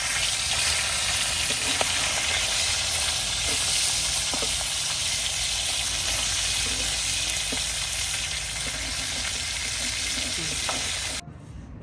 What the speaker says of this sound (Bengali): হালকা ভাজা দেব, বেশি না।